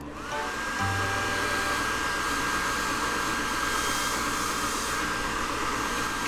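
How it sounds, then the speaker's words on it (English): An automatic hand dryer in a restaurant bathroom blows with a steady, loud whoosh that runs continuously from start to finish, with a faint whine over the airflow. "He's having fun drying his hands under the automatic dryer."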